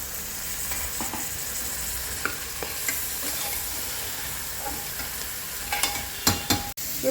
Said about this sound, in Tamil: அதனால் எல்லாத்தையும் போட்டுட்டு சோயா சங்க்ஸ் அதையும் போடுறேன்.